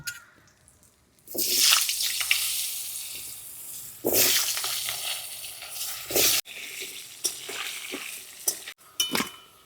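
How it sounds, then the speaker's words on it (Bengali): Potatoes fry in leftover fish-frying oil, giving a loud, bright sizzle that erupts as they go into the pan, with stirring and scraping between bursts and no talking. "এবার মাছ ভাজার তেলে আলুগুলো ভেজে নেব"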